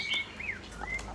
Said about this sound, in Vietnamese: Đây một em mi mái nhá các bác nhá